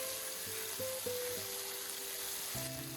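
Mutton steak frying in a pan gives a soft, steady sizzle, quiet and close, with faint tonal hums and a clink in the background and no talking.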